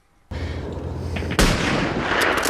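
Gunfire from the war film Saving Private Ryan: a sharp, booming shot, followed about a second later by a second loud blast with a rumbling tail.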